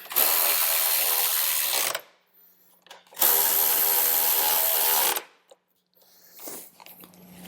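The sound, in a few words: power tool tightening bolts on a Harley-Davidson Road Glide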